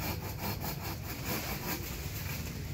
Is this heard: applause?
no